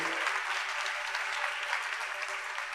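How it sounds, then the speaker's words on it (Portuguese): Congregation applauding in church, a sustained, even roar of many hands clapping, fairly loud and continuous with no voices standing out. "Dá um aplauso a Deus pela vida do apóstolo"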